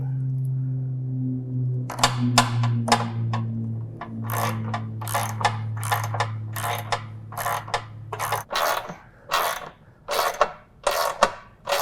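Ratchet clicking in short repeated bursts while screws are tightened on a 42-inch Accel Deep Deck mower deck during a mulch control kit install, the crisp metallic pawl ticks close and loud over a low steady hum that stops partway through.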